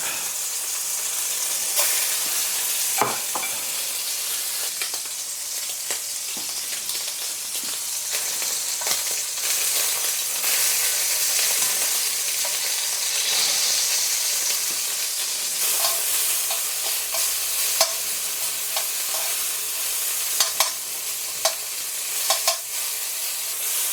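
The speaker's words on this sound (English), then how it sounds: "Splash of oil. Get that going around my wok. I need to get the wok searingly hot." A stir fry sizzles in a searingly hot oiled wok, a loud, steady, dense hiss throughout, broken by scattered clinks and scrapes of stirring close by.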